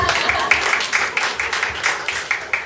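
Scattered hand claps from a church audience during a sermon, coming in uneven bursts at a moderate distance, with a faint sustained tone in the background.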